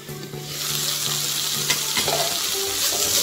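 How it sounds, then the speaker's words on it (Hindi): Ridge gourd peels and tamarind sizzle and fry in a pan on a low flame, a steady close crackle with a brief scrape of stirring partway through and no talking. "अभी लिड लगा के इसको 2 मिनट्स तक ऐसे लो फ्लेम में हम ऐसे पका लेंगे।"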